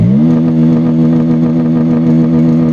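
A TVS Apache N160 motorcycle engine, a BS6 2.0 model, rises quickly in pitch and then holds a loud, steady, buzzing rev close by with no talking.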